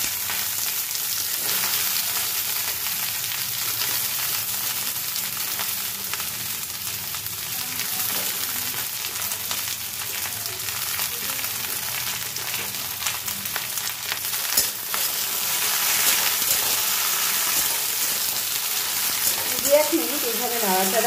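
Okra frying in oil in a pan, a steady broadband sizzle with occasional scraping stirs, continuous and close, with faint talk near the end.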